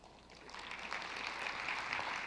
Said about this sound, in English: let's give a big round of applause for our next speaker, Vivek Wadhwa